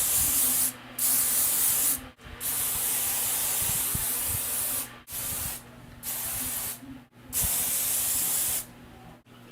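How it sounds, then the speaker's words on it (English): Several bursts of dry thickening hair spray hissing from an aerosol close up, each a few seconds long, separated by brief pauses. "Go back in with our dry thickening spray."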